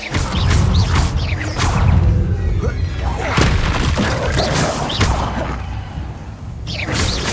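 Confringo fire spell cast in the video game Hogwarts Legacy, a loud booming blast with whooshes and crashing impacts, repeated bursts amid busy game combat with voices over it.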